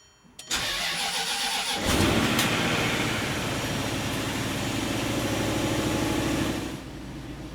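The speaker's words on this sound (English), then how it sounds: "right now when I come off the throttle and go back to idle, it kind of surges for a little bit before settling down" A 2007 supercharged Range Rover L322 engine cranks and catches after a short pause, then runs at a loud, steady idle whose level rises and eases slightly before cutting off near the end.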